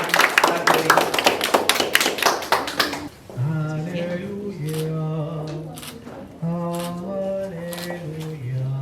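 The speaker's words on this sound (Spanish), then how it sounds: "Un fuerte aplauso para" A congregation gives three seconds of brisk, close group clapping at a church baptism. The clapping cuts off, and sung music with instrumental accompaniment follows.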